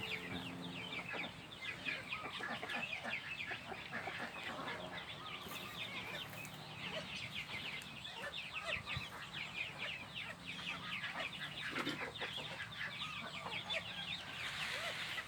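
A white-tailed bantam rooster in the morning, heard faintly at a distance, gives clucking and crowing calls over a low outdoor background with no one speaking.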